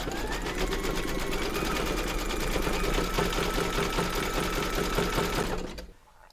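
An embroidery machine stitches a bunny's bottom lip in grey thread, its needle running in a fast, steady rhythm close by for nearly six seconds before stopping abruptly.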